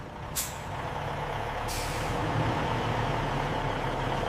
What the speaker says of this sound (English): The trucks are loaded, checked, and ready for distribution.